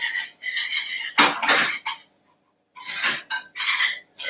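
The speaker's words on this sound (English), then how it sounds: "And then we're just going to mix that all together." A utensil stirs ground almonds into a wet, gooey vegan mix in a bowl, giving clattering, scraping bursts against the bowl with short pauses between strokes, close and fairly loud.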